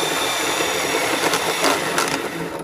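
A portable electric band saw motor runs close and loud with a steady whirring hum, blade noise layered over it and a few brief rattling bursts.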